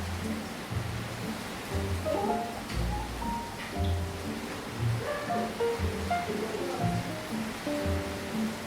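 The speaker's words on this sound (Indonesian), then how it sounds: "di luar lagi hujan angin" A rain and wind storm rushes outside in a steady, dense wash of noise with low, gusty rumbles. A few faint tonal sounds rise through it, and no one speaks.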